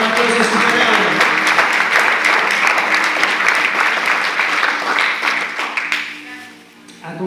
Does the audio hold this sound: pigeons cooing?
no